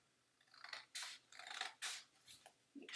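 Scissors cutting out a paper doll body shape for a kokeshi doll craft, a series of quiet close snips and crisp paper rasps in irregular strokes, with no talk.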